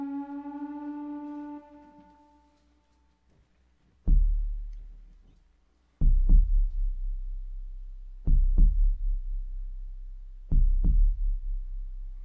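A synthesized heartbeat in the instrumental piece True Life, entering after a sustained flute tone fades: deep thumping double beats, four clear pairs spaced about two seconds apart, heavy and close with a low rumble.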